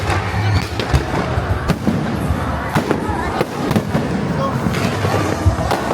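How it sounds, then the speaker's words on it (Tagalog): Rapid, loud fireworks bursts crackle and boom one after another, a steady barrage of sharp cracks and deep thuds. "Nagandahan ka sa fireworks?"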